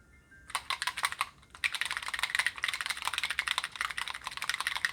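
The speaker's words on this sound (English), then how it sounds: "You hear the metal bolts I had to put inside the bottles?" Metal bolts rattle inside bottles being shaken, giving quick bursts of bright, dense clicking and clattering, close and fairly quiet, with a brief pause before the shaking resumes.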